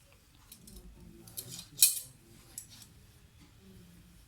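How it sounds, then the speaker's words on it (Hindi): Scissors snip through fabric being cut for a kameez, a few crisp close cuts with one sharp louder snip in the middle against a quiet room. "अब हम इसको कटिंग करते हैं।"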